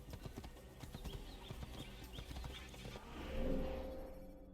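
Horse hooves clip-clop in a quick, steady rhythm along a road in an Assassin's Creed video game, fairly faint, then a softer rushing wash of ambient game sound takes over near the end.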